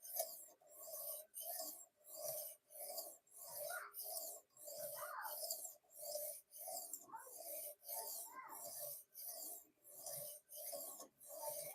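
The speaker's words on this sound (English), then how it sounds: "we are trying to tune up the wife's kitchen knives. But this is a pretty nice guided sharpening system" Kitchen knives being sharpened on a guided sharpening system: steady, evenly spaced rasping strokes, roughly two per second, close and moderately loud, with no talking.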